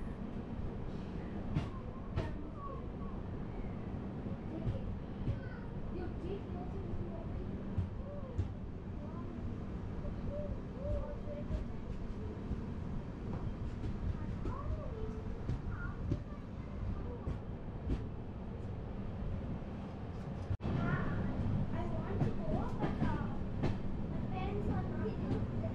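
A slow-moving train on the Araku line rumbles steadily from inside a vistadome coach, with faint rail clatter and squeaks, while a voice talks over the running noise.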